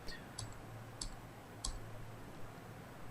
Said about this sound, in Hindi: और अब मैं डाउन एरो की प्रेस करूंगा अपने कीबोर्ड पे